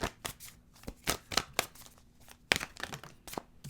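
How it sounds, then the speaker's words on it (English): Oracle cards being shuffled by hand: a quick, irregular series of soft, close riffling and flicking bursts, each short and crisp, with small pauses between. "let's go ahead and pull some oracle cards"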